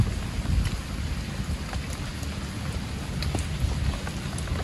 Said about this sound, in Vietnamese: Do là bây giờ là trời mưa lâm râm lại á, nó đỡ á.